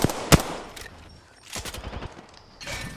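Gunfire in the battle-royale shooter Apex Legends: a sharp close shot near the start, then scattered bursts of rapid fire and impacts at moderate volume amid game noise, with no talk.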